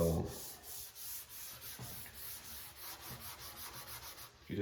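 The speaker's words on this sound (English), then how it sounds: "You just kind of keep burnishing this material in" Live edge wood bar top being buffed with Rubio Monocoat oil finish, a steady close rubbing and sanding-like hiss with rhythmic strokes throughout, no talking.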